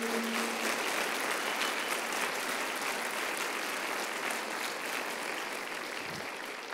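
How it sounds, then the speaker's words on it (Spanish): Steady, dense applause from a large church congregation fills the whole stretch, loud and unbroken, with no one speaking over it. "Denle un aplauso fuerte al Señor si lo creen"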